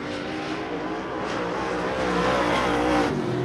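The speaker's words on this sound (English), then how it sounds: "checkered will be coming out for the 12 car of Johnny Philpott" A race car roars hard past at Devils Bowl Speedway, a loud, sustained engine drone with a hint of tire noise, close and steady with no voices over it.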